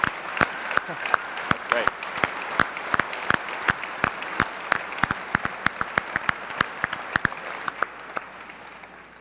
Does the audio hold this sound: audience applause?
yes